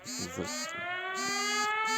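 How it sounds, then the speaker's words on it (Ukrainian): An air raid siren wails in the background with a steady, slowly rising tone that holds through the whole stretch, under a game's sounds and effects, with no one talking. "у нас повітряна тривога"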